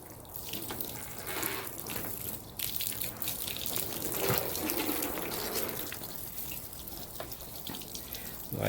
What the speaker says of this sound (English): Like more water coming out the side of it than coming out of the head.